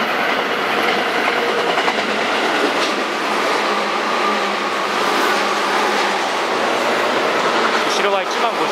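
A Tobu train runs through Yanasegawa station with a loud, continuous rumble and rhythmic wheel clatter that fill the whole stretch, close by and steady.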